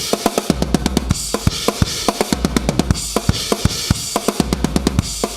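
A drum kit plays a steady, fast pattern in a conventional drummer's style, with regular sharp hits, kick thumps and cymbal wash, loud and alone.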